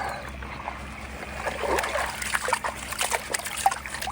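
Fish tipped from a bucket into a freshly stocked pond, with water sloshing and splashing in irregular bursts that build toward the end, close by and moderately loud.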